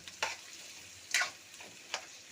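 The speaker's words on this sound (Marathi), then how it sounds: "आता कांदा हा मी छान असं परतवून घेणार आहे गुलाबी रंग होईपर्यंत" Chopped onion sizzling and frying in a pan while being stirred, with three distinct scraping stir strokes over a quiet, steady sizzle, close and fairly soft.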